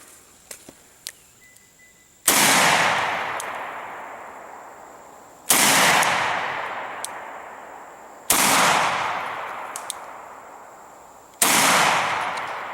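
Four loud gunshots from a 6-inch barrel firing 200 grain Blazer FMJ rounds, spaced about three seconds apart, each a sharp crack with a long decaying echo, light clicks of handling before the first.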